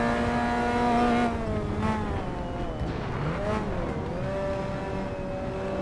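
Classic touring cars race in Assetto Corsa, several engines droning and revving together with shifting pitch, close and loud throughout, with brief tyre squeal mixed into the dense pack noise.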